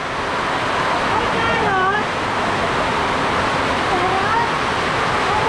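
Sudden heavy rain like a storm pours down as a steady, loud broadband roar throughout, with excited people and children's voices rising over it.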